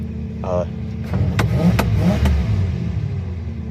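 A 1965 Plymouth Fury engine with stale gas revs up under the throttle, then settles toward a slightly high idle, a steady mid-low rumble throughout with someone talking over it.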